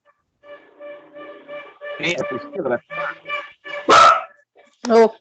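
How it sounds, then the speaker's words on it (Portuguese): A dog barks repeatedly in a quiet room, a series of sharp close yaps and bow-wows spread across several seconds. "Volta aqui, cachorro. Alguém latiu aí."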